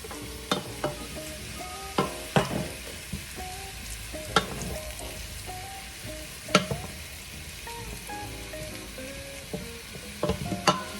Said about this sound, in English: now I'm gonna add in my ground beef to cook with the potatoes